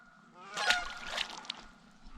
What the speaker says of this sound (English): Geese are flying over